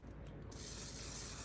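Hairspray sprayed onto glitter, a short, steady, close hiss that starts abruptly and holds at a strong level, with no talking.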